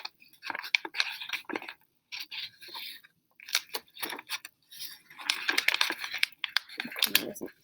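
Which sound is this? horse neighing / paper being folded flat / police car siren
paper being folded flat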